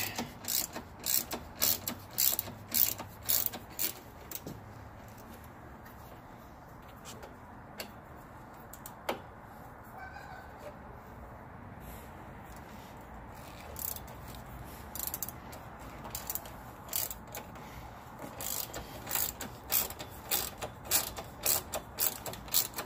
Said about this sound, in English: why the hell I'm using a 1/4-inch drive ratchet for this job